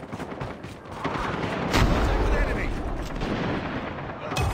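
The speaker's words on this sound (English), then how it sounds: "Napalm deployed." Napalm strike explosions rumble through a COD Mobile match, a heavy rolling barrage of deep blasts and crackling bursts that swells and holds loud across the scene.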